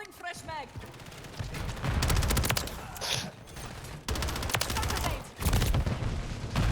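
Bursts of rapid HRM-9 submachine gun fire in a Modern Warfare 3 match come in several loud, dense volleys separated by short pauses, mixed with game effects.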